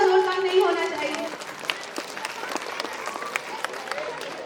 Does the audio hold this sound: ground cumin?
no